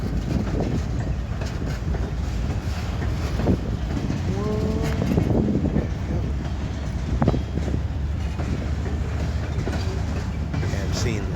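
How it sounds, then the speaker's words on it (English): A passing Norfolk Southern Herzog rock train in Columbus, Georgia gives a continuous loud rumble and rhythmic clatter of railcars, with short squeals, wind buffeting and people talking over it. "that's the train we saw earlier on the bridge"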